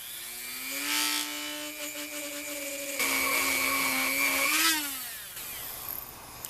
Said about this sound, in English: due to the rotation of the Dremel, it wants to walk me in the direction that it is spinning. So as I'm cutting, I'm actually pushing back a little bit